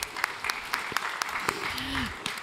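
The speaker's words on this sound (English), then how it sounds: "A round of applause to Boop." Applause from an audience at a startup pitch competition, scattered individual claps spread through the room, fairly faint, with a little background voice activity.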